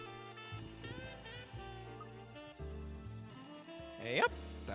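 Electronic telephone ring in the Layton Brothers Mystery Room video game, repeating tonal bell chimes over game music, with a bright flourish near the end.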